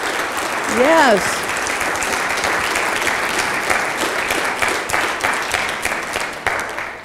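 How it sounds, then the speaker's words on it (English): Conference audience applauding steadily for several seconds, a sustained wash of many hands clapping, with a voice speaking briefly over it near the start. "they need to have a round of applause."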